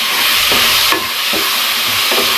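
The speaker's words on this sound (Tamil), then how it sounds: "இப்போ இது நல்லா ஸ்மாஷ் ஆகிற வரைக்கும் நல்லா நம்ம வதக்கணும்." Tomatoes stirred and sautéed in a pan for a chicken gravy: a loud, continuous sizzle with about four rhythmic scraping strokes of a spoon across the pan.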